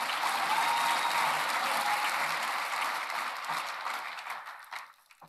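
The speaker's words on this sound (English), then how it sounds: "Let's hear a round of applause for him." A crowd at an award ceremony applauds loudly and steadily, the clapping holding strong before thinning out and fading away near the end.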